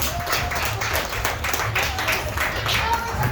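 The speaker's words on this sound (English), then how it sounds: "Come on, everybody, clap for this little girl." An audience at the Scott County Fair clapping for a little girl, a steady, fairly loud patter of many hands close by, with a voice speaking faintly underneath.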